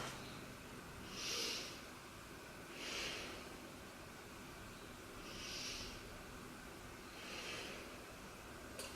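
Slow deep breaths drawn into the chest during a seated yoga twist, four soft airy swells spaced about two seconds apart, close and quiet with no talking.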